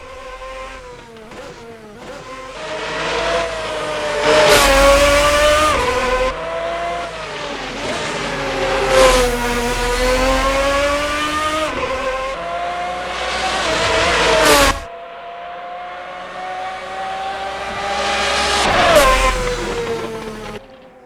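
An RSS Lanzo race car in the Assetto Corsa racing game revs hard through repeated upshifts and downshifts. The loud engine whine rises and falls over and over, with a brief pop on a lift, and no one speaks.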